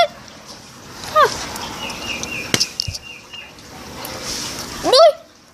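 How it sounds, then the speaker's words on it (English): Birds call in short, sharp bursts at the start, middle and end, loud and close, with fluttering and scattered knocks between the calls and no clear talk. "Shut it, birds!"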